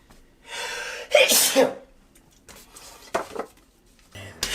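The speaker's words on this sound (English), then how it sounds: "I sneezed on camera." One loud, sharp sneeze close by, with a faint breath before it and small clinks and rustles afterward.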